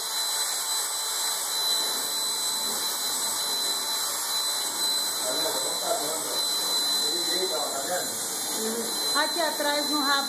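A blow dryer blasts air onto a Chow Chow's thick fur indoors at home, a steady loud whooshing hiss that runs throughout while a person speaks over it.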